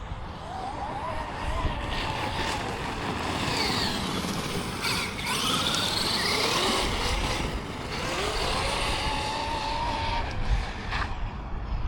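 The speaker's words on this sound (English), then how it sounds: "I love how punchy the truck is feeling" A Traxxas X-Maxx RC monster truck on LiHV batteries screams across concrete, its electric motor whining up and down in pitch through steady loud bursts of acceleration with tire scrub.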